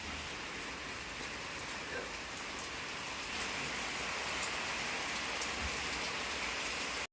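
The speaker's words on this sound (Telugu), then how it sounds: "వర్షం పడుతుంది బయట" Steady rain falls outside in the dark during a power cut, a continuous even hiss of drops on surfaces that fills the whole stretch without pause, with no talk over it.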